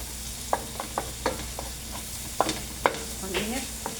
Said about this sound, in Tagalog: Gisa-gisa lang natin.